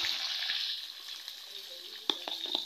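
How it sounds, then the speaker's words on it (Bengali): Kohlrabi pieces fry lightly in oil in a pan, a soft steady sizzle with a couple of sharp clinks of a spatula near the end. "ওলকপিগুলো একটু হালকা ভেজে নেবে যাতে সবুজ গন্ধটা চলে যায়"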